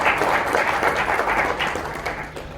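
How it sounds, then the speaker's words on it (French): An audience applauds Her Excellency at the award ceremony of an inter-university Challenge Basketball tournament. The clapping is dense and steady, then eases off toward the end. "Si nous pouvons acclamer Madame son Excellence."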